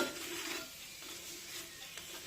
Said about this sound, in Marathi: हलक्या हाताने उलटण्याने थोडंसं दाबून हा पराठा भाजून घ्यायचा, म्हणजे मग छान खमंग भाजला जातो